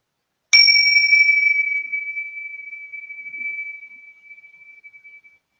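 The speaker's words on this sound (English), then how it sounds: "sometimes I like to ring the bell because I feel like we're going into the last chapter of this council" A single small bell is struck once, giving a bright, clear ring that hangs as a pure sustained tone and slowly fades over about five seconds in otherwise silent surroundings.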